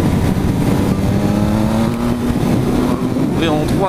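A 2018 Triumph Speed Triple 1050 RS engine droning steadily while riding on the road, loud and close with pitch rising slightly, a voice talking over it.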